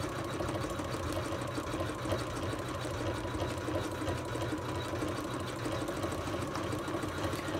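An embroidery machine stitching a stuffed toy on fur or fleece fabric, giving a steady, even mechanical whirr with fast rhythmic needle pulsing, moderately quiet and alone.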